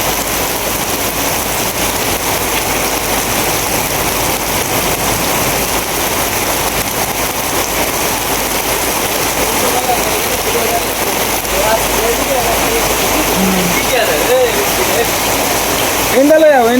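Heavy rain pours steadily during a storm as the wind eases, a dense continuous rushing wash that stays loud and even throughout, with a voice breaking in faintly near the end.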